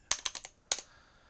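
Quick bursts of typing on a computer keyboard: a cluster of four crisp keystrokes, a short pause, then two more, close and fairly quiet in an otherwise still room.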